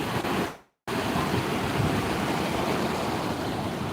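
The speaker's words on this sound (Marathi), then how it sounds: "पाण्याचा प्रभाव जास्त आहे नदीला" The swollen Chandni river after flooding rushes past in a loud, continuous broadband roar of flowing water that is steady throughout, broken only by a brief dropout near the start.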